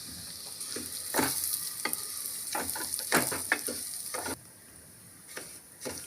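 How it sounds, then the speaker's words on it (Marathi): Broken wheat sizzles as it is sautéed in ghee, with a continuous frying hiss broken by scraping stirring strokes in an irregular rhythm, close and moderately loud with no talking. "आता हे आपल्या लापशीचा गरा तो टाकून त्याच्यात परतून घ्यायचा आहे."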